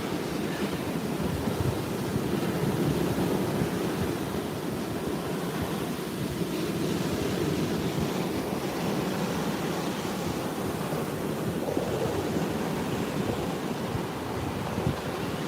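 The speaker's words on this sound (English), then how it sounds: "It started raining again now that I put my umbrella down." Rain falls at a beach at sunset while ocean waves wash in, a steady broadband hiss of drops and surf with some wind rumble, fairly close and continuous, with no talking.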